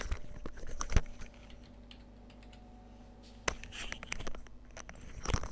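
Computer keyboard typing in light bursts of soft clicks, with a few sharper taps standing out against a quiet room background.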